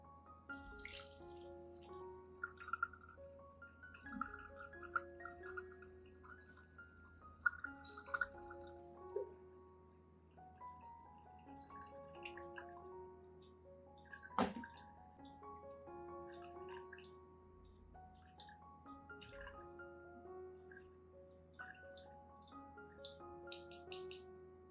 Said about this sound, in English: I will use a sieve to filter out all the pulp, keeping only the nutrient-rich liquid.